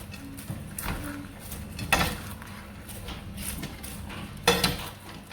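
Scraping and clinking of a utensil stirring caramel popcorn in a frying pan, a few sharper knocks standing out over a quiet background.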